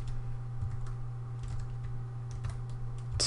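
Code typed on a computer keyboard: a run of light, irregular key clicks at close range over a steady electrical hum, with a slightly louder keystroke burst near the end and no speech.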